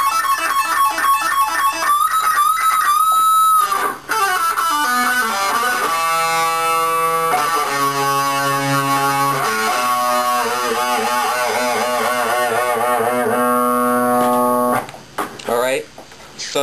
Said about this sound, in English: now we're finally at the last part of the solo, which sounds like this